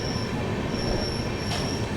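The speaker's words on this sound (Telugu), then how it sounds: "భీమవరం టౌన్కి మన ట్రైన్ ప్లాట్ఫామ్ 1కి అయితే వచ్చింది" Narasapur-Tirupati express train pulling into platform 1 at Bhimavaram Town station, a steady rumble under a sustained high metallic wheel squeal, close and continuous.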